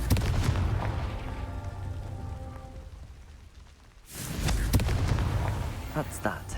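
Confringo spell exploding in the video game Hogwarts Legacy, a loud blast that fades away, then a second heavy burst of crackling, rumbling explosion noise near the end, with someone speaking in the mix.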